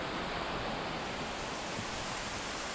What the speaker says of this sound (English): the excess overflows via a side channel into an overflow waterfall, which runs down the full length of the flight